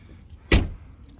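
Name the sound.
car keys taken out of a Range Rover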